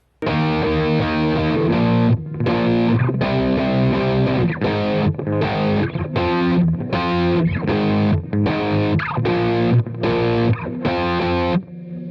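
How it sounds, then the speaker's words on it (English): Distorted electric guitar strums power chords in short rhythmic bursts with choppy stops, changing chords in a repeating pattern, loud and alone. "So our next strumming pattern is going to sound like this."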